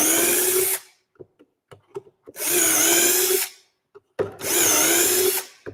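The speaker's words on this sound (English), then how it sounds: "quickly drill our holes out" A power drill bores shelf pin holes into a wooden cabinet panel in three loud, close whirring bursts, each a few seconds long, separated by quiet gaps with small clicks and knocks.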